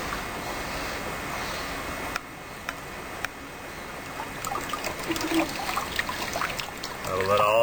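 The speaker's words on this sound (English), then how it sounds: "I will let all the overlying water drain off." Water trickles and drips steadily off a scoop of freshly collected sediment at an outdoor sampling site, with a few small clicks and handling sounds close by.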